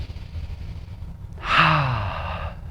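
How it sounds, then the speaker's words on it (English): A child at a yoga class takes a long, deep breath with an audible sigh-like exhale, close and clear over quiet background noise. "Helps you breathe big,"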